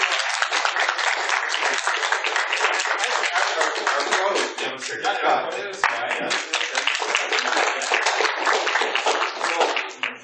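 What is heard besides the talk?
audience applause at panel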